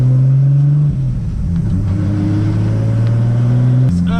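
Nissan Skyline R33 GTR cruising along early-morning country B-roads, its engine a steady, loud droning hum with a brief dip in pitch as it shifts, then settling back into a smooth constant rumble.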